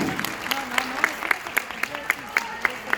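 Conference audience at a Young Living convention applauds steadily, a sustained wash of clapping with distinct rhythmic claps standing out, while someone talks over it.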